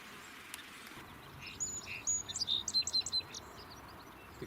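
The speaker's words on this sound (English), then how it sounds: "Many of the birds, such as this song sparrow, have appreciated the increase of exposed mud." A song sparrow sings over exposed mudflats, a lively run of quick chirps and trills in the middle of the clip, clear and moderately near above a low steady background, with no voices.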